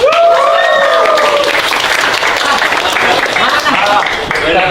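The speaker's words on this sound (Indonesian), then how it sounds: "Boleh kita sambut dan tepuk tangan yang paling meriah untuk Mr. Waidi" Loud, steady audience applause welcoming a guest teacher on stage, dense clapping sustained throughout with cheering voices and shouts mixed in.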